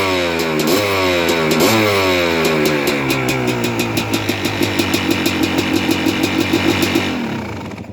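Rebuilt Kawasaki KX250 dirt bike engine, fresh top end and cylinder, revved up hard several times, then settling into a rapid, crisp pulsing idle before cutting off near the end.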